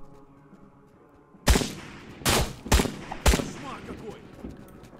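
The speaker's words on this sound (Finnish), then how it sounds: "Mä ammuin 2 laukausta ja mun panokset katos." Four sharp, loud gunshots ring out in a video game set on the Trans-Siberian Railway, coming after a quiet hum, the first alone and the other three in quick succession.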